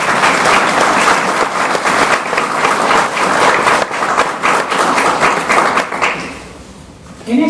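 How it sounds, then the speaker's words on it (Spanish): Audience applauding to welcome a historian speaker at a lecture, loud dense clapping from many hands for about six seconds that fades out near the end, with a voice faintly heard. "a quien recibimos con un fuerte aplauso"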